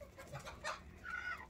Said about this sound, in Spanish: Y ahí está poniendo la gallina.